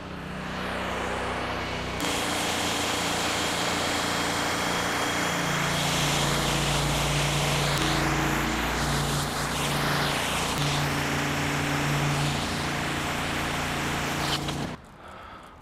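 Pressure washer trailer engine and pump running steadily while soap is applied to a storefront, a loud continuous mechanical drone with shifting spray noise and a clear step up in level early on, cutting off near the end.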